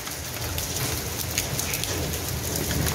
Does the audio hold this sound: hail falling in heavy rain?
yes